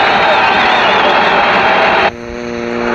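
Hockey arena crowd at a 1983 Chicago Blackhawks home game, standing and cheering after a 50-goal power play score, a loud broad continuous roar that cuts off abruptly near the end.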